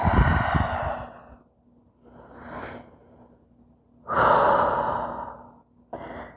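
Deep audible breaths during a downward dog yoga pose, with long loud sighing exhales at the start and again near the end and a softer breath between, close and alone without speech.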